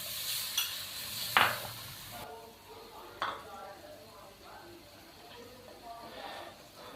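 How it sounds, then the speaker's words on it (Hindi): Spice masala with finely chopped tomato frying in a pan while being stirred, cooked for chicken kaleji pota; soft sizzling runs throughout, broken by a few sharp scrapes and clinks of the spoon against the pan, with a voice speaking over it. "मसाले की हम 3 से 4 मिनट के लिए अच्छे तरीके से भुनाई कर लेते हैं।"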